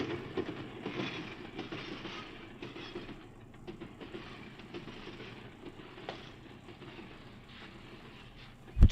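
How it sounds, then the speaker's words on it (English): A train rolls past at a distance, a faint, steady rumble with rhythmic clickety-clack of wheels over rail joints, no voices, ending in a sharp thump. "Train muffled it."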